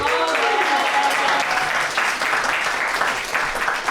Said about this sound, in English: Applaud to that.